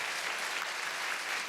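A church congregation claps together in steady, dense applause that fills the room evenly, with no voices standing out.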